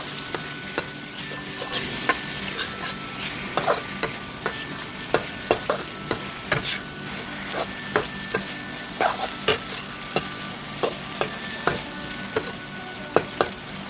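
Minced pork stir-fried in a pan for tom yum fried rice, a steady loud sizzle with repeated scraping and clacking of the spatula against the pan at an irregular rhythm, close up with no talk.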